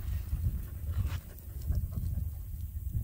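A garden dog pants steadily close by, quick soft breaths repeating through the whole stretch with no one talking.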